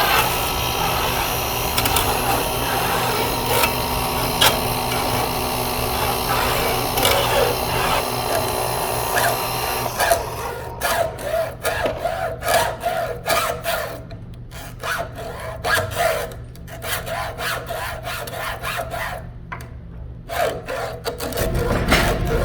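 A hacksaw cuts through a flexible hose wrapped in tape and clamped in a vise, giving a steady rasping back-and-forth stroke close by. The stroke is continuous at first, then turns choppy with short pauses as the cut goes on.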